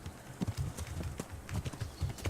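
Horse hooves clip-clopping while riding in the medieval video game Kingdom Come: Deliverance, a quick irregular run of close, moderately loud hoof thuds with faint bird coos in the background.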